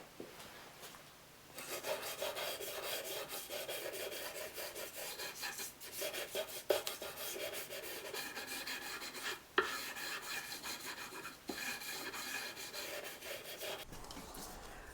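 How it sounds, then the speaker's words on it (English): Fine 400-grit sandpaper rubs across a wooden violin fingerboard in continuous, even back-and-forth strokes, a soft close rasp with occasional brief pauses and light knocks. "The last time that I sand perpendicular to the fingerboard is with 400 grit sandpaper"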